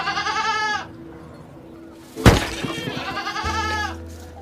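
Goats in a goat pen bleat loudly, one wavering call at the start and another near the end, with a sharp knock or clatter between them and a low background hum.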